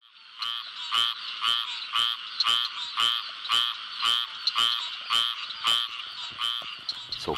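A chorus of frogs croaks in a steady rhythmic series of about a dozen loud, rasping calls, close by and without talk.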